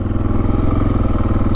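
A motorcycle idling close by while being parked on a sloped roadside, its engine a steady low loud chug with light rattling throughout.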